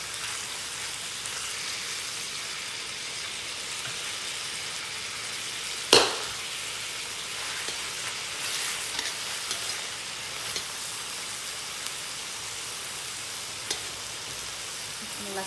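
Beef frying in a pan with seasoning sauce, soy paste and fish sauce gives a steady soft sizzle and hiss, with one sharp clack near the middle and a few faint taps later.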